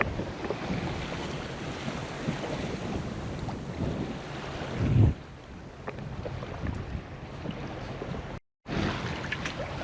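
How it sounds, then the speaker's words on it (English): A sailboat under way on open water, with steady wind rush buffeting the microphone and water washing along the hull, continuous and moderately loud, with one brief dropout near the end. "Sailing along nicely."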